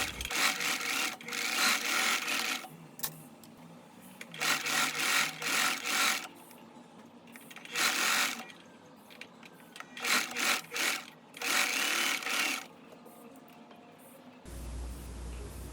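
A sewing machine stitches along the edge of a linen blouse facing, quiet bursts of rapid mechanical whirring that start and stop several times with short pauses between them.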